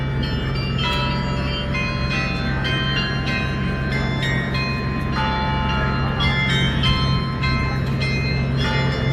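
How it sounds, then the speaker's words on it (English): Bells ring repeatedly in an irregular pattern over a constant low rumble in Passau, Germany, sounding moderately close, with no voices. "Those bells are kind of cool"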